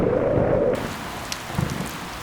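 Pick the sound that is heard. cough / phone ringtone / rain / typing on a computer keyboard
rain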